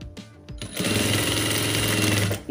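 A sewing machine stitching a saree fall, starting with a few separate clicks and then running steadily into a loud, even, rapid whir of stitching before stopping.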